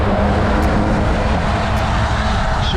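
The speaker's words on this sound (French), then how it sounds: "Là je suis en bord de circulation." Road traffic rushes past close by along a roadside, a loud continuous engine and tyre roar that swells and eases as vehicles go by, with no talking.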